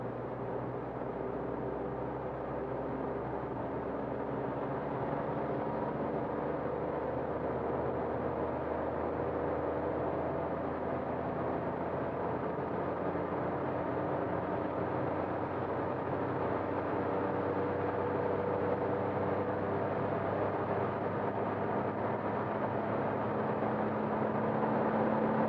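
A Toyota Aygo 1.0 VVT-i petrol engine pulling under acceleration from inside the cabin, a steady droning hum with road and wind noise that swells gradually and evenly throughout.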